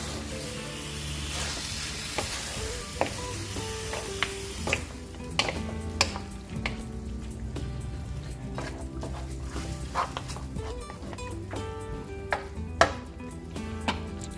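Pork ribs fry with tomatoes in a pan, a continuous sizzle broken by sharp clinks and scrapes of stirring, with a dog barking now and then in the background.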